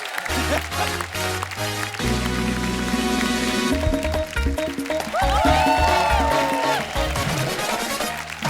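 A studio audience at The Kapil Sharma Show breaks into loud, sustained applause, dense rapid clapping filling the room alongside music and a host's voice.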